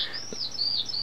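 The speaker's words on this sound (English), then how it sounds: "This is a recording, some birds singing" Recorded birds sing in short, high chirping whistles, a quick run of bright tweets, fairly faint and alone against light background hiss.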